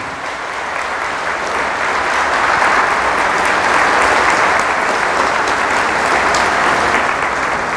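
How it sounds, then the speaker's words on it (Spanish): A church congregation bursts into loud, sustained applause after a scripture reading, the clapping steady and dense for several seconds with no voices over it. "Fuertes aplausos a la palabra del Señor."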